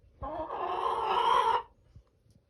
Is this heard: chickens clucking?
yes